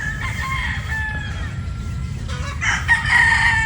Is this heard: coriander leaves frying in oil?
no